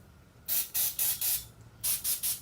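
Carburetor cleaner, used as starting fluid, sprayed in six short bursts into the intake of a 1974 Ford rototiller engine, each hiss lasting a fraction of a second with brief gaps, close and fairly loud, with no talking.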